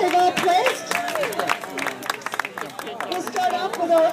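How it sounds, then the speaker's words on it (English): An audience at a craft contest claps for the placers, scattered clapping mixed with crowd chatter and voices talking throughout. "Big round of applause for all of these guys."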